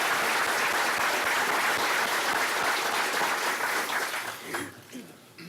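An indoor audience at a regional chamber of commerce annual meeting claps loudly and steadily, then the applause thins and fades out near the end.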